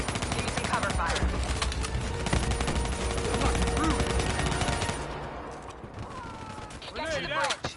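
Dense gunfire fills a Call of Duty: Black Ops 3 campaign battle as rapid automatic bursts and heavy shots pile up loud and continuous, with a voice shouting over the firing and a brief lull before more shots.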